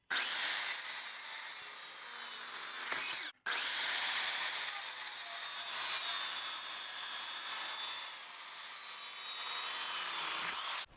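Saw cutting through a 4-inch piece of fresh green walnut, a loud continuous rasping buzz that breaks briefly once between cuts, close up with no talk.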